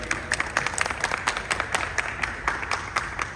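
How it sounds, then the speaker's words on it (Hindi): Applause from an audience for a film director, brisk scattered clapping at moderate distance that continues steadily throughout without talk. "एक जोरदार ताली हो जाए भैया।"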